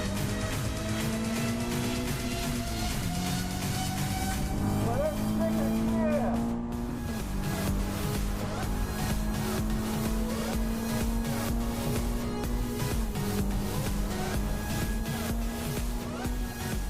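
A Toyota TR86 race car drives hard at a shakedown at Mansfield, its engine droning and rising through gears with repeated upshifts, tyres occasionally squealing, while a voice talks over it.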